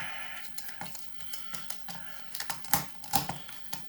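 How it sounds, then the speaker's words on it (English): A screwdriver turns a Phillips head screw out of the stock of a Bushmeister BA-X12 shotgun, with a run of sharp, irregular clicks and ticks, close up and moderately loud. "You're going to have a Phillips head up there. And unscrew and unscrew and unscrew."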